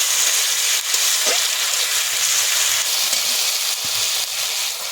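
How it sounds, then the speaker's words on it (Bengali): Ginger-garlic paste frying with onions in a pan gives a continuous close, bright sizzle with a few soft stirring knocks, and no talk over it. "আদা রসুন বাটা দিলাম পেঁয়াজের সঙ্গে একটু ভালো করে ভেজে নেবো"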